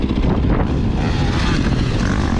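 Steady, loud roar of wind buffeting the rider while riding a motorcycle on the open road, a continuous rushing noise with no break.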